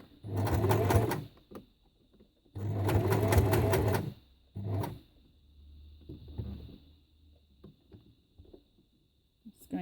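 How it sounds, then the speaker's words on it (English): A sewing machine stitches straight across a coil of scrap fabric rope in two long, loud bursts and a shorter one, followed by quieter handling and fainter stitching with a steady high whine beneath. "I'm just going to sew straight across first"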